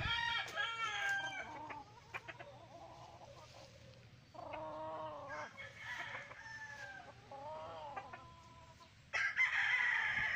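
Hatch gray chickens clucking and crowing nearby, with a rooster's long crow rising over ongoing cackling and squawks from several birds.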